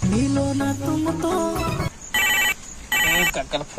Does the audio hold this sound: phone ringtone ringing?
yes